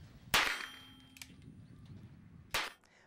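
Cowboy-style pistols fired at targets in a set pattern outdoors, two sharp, loud reports spaced a couple of seconds apart, each with a ringing metallic tail and quiet between.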